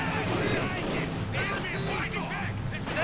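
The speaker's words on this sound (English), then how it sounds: "MG42 just blasts away at the troops inside the house" MG42 machine gun fire in Company of Heroes 2, aimed at troops inside a house, a dense, continuous rattle of shots under a commentator talking over it.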